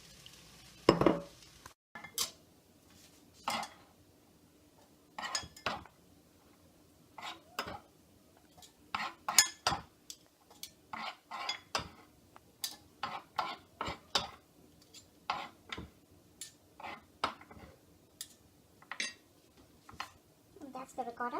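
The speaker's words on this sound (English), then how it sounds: "I'm going to beat my eggs and mix in the ricotta and the feta cheese together" Eggs being beaten with ricotta and feta cheese for a Greek spinach and cheese pie, heard as a run of sharp, irregular clinking taps against a bowl, close up, with short pauses between bursts.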